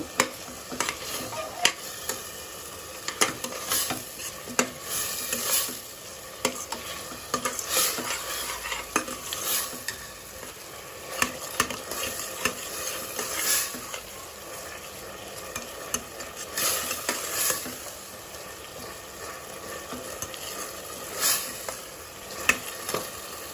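Tomatoes cook for chicken dum biryani in a pan while a utensil stirs them, a soft steady sizzle broken by repeated scraping clicks, close and quiet with no talk.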